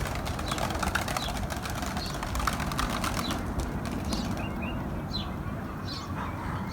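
Tumbler pigeons return and land, with a flurry of flapping wingbeats over a steady outdoor background that settles into calmer ambience with a few faint bird sounds.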